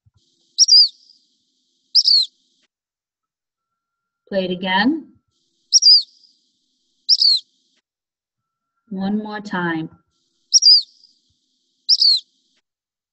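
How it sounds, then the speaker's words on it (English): A black phoebe's song repeats several times as short, high, two-part whistled phrases at steady intervals, clear and isolated against silence, while a person speaks briefly in between. "That was a black phoebe."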